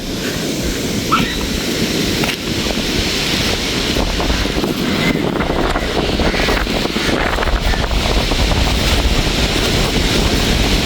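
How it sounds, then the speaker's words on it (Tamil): Loud, blustery storm wind buffets the microphone continuously on Keerimalai beach in Jaffna after rain, with a rumbling roar that could include surf, and no clear speech. "காற்று நல்ல வேகமாக அடிச்சுட்டு இருக்கு"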